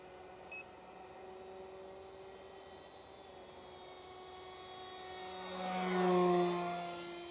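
An RC F-18 model jet with a 2216 2200 Kv electric motor passes slowly overhead, its thin whine of ducted fan holding steady then swelling louder as it nears around the middle and end; a brief beep near the start.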